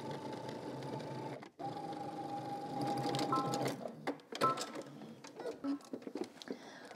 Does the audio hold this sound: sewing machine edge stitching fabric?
yes